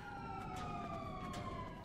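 A police car siren in the GTA Online video game wails faintly and steadily over a low rumble of traffic and engine noise, its tone sliding gently downward across a brief moment.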